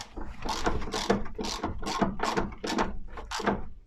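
A ratchet wrench loosening exhaust manifold bolts on a BMW E34 with an M50B20 engine, heard close and loud as a steady series of about eight rhythmic ratcheting bursts.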